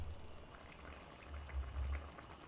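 Shrimp and bok choy simmer in a covered pot, giving a faint, low, continuous bubbling with soft irregular pops and no talking.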